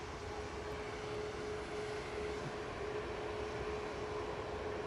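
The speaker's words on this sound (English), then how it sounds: "Hopefully this Jet2 is going to come down Victor Alpha" A Jet2 airliner on approach to land at Manchester Airport, heard as a steady, broad engine roar that holds at an even level throughout, with a faint continuous tonal whine riding above it and no voices.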